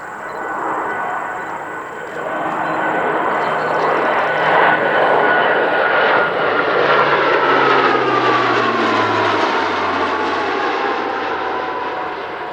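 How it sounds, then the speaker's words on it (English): A C-27J Spartan military transport makes a low pass, its loud turboprop engine roar swelling in and holding steady. The pitch slides lower as the plane passes overhead and moves away. "so a nice low, clean pass from Spartan here."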